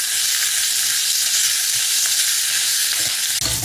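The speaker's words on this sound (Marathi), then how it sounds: "अगदी थोडंसं हिंग, हा ठेचा जो आपण तयार केला होता, कढीलिंब, आणि हे छान ठेचा परतून घेऊयात" Crushed green chilli thecha sautéing in hot oil with cumin, a pinch of asafoetida and curry leaves, a bright continuous sizzle close up, ending with a brief clatter of stirring.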